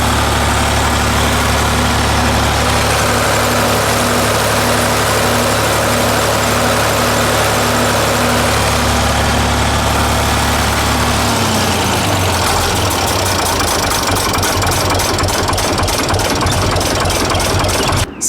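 A Ford 931 six-cylinder diesel tractor engine idles loud and close with a steady, low knocking rumble, then the tone shifts and roughens as the engine note drops near the end.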